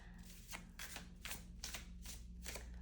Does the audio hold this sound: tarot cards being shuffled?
yes